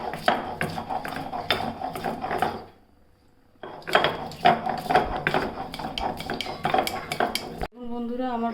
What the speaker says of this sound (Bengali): পেঁয়াজ, আদা, রসুন একসঙ্গে বেটে নেবো